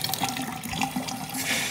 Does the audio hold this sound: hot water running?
yes